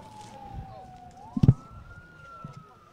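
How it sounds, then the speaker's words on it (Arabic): An ambulance siren wails steadily in the distance in the village of Turmus Ayya while settlers are burning homes there. One sharp thump sounds partway through, and no one speaks. "راينا سياره الاسعاف تتجه للمكان ونقل اصابه"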